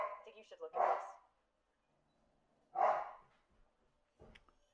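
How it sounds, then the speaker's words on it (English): A dog barks in the background of a room: two separate barking bursts about two seconds apart, then a short, fainter yip at the end, with no talking over them. "Sorry about the dog in the background there."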